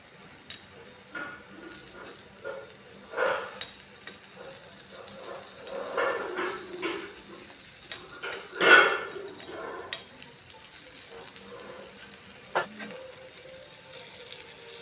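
Rice flour kuli paniyaram frying in a pan, a low steady sizzle with scattered scrapes and taps of a utensil and one sharper clank midway, close and quiet.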